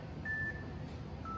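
An iPad workout interval timer gives two faint electronic beeps, a longer tone followed after a short gap by a second, over a low background hum.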